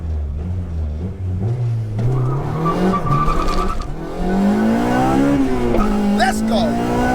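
A Honda Integra Type R DC2 spins its wheels: the engine revs climb steadily and loudly as the tires squeal and skid continuously nearby.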